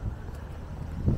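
Gusty wind buffets an outdoor microphone on a street in Feltham, a steady low rumble that swells louder near the end, with no voices.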